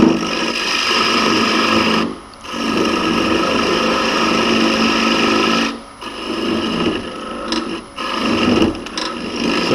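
A wood lathe spins a bowl while a hollowing system cuts its interior, giving a steady, slightly chattery scraping whir in long passes broken by brief pauses.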